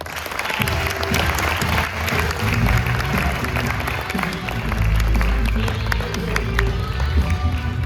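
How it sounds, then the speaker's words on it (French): Loud, sustained applause from an audience welcoming a contestant onto stage at an apprenticeship competition, with clapping dense throughout over a deep rumbling background. "Voici tout de suite Mallory Fouet sur vos applaudissements"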